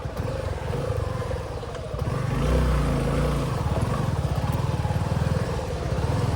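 A motorcycle engine rumbles steadily as the bike rides off road, revving up around the middle and continuing with a rough, pulsing drone close by.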